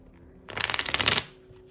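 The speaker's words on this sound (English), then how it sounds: "let me get the clarifying cards out for you" A deck of tarot cards is shuffled in one quick riffle lasting under a second, close and crisp, with quiet room tone on either side and no talking.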